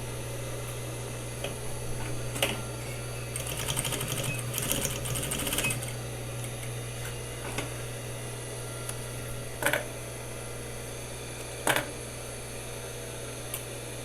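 A sewing machine stitches a short backstitch on a slipper. Close, steady mechanical whirring and rapid ticking rise into a busier burst of stitching partway through, and a few sharp clicks follow as it slows, with no speech.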